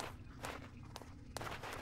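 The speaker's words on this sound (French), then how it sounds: "C'est le bruit de pas bizarroïde." Footsteps thud in the survival horror game Night of the Dead, a few soft, irregular steps spaced apart over a dense low hum, fairly faint and distant.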